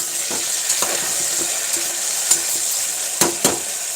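Lotus stem and potato curry being stirred with salt in a pan, a steady sizzle with a few sharp scrapes of the spoon against the pan, close and without talk.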